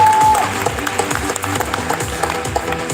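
Audience applause for the director and cast after a theatre screening or performance, a dense clapping crowd that starts loud and eases slightly, with a brief tonal beep near the start and faint murmur underneath.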